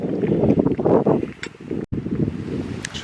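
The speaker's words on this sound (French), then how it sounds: "il y a du vent" Outdoor wind buffets the microphone in steady, rumbling gusts, loud and close, with a brief dropout partway through and a light rustle of clothing or leaves.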